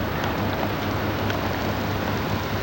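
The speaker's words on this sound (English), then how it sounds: "Oh, it's starting to rain." Rain begins falling outdoors during a southern storm with a tornado watch, a steady dense hiss of drops close by with no voices.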